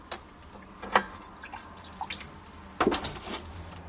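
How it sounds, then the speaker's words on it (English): Solution is decanted off copper and the residue washed with a little water, giving scattered drips and small splashes of liquid, close and quiet, with no talking. "I'm going to decant the remaining solution just so that we can see through it a little bit easier. And maybe wash it with a little bit of water."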